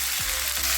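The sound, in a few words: potatoes and cauliflower frying in a pan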